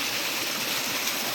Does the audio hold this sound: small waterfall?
yes